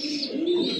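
A pigeon coos softly and continuously while feeding its chick, a brief close murmuring call with faint chirpy overtones.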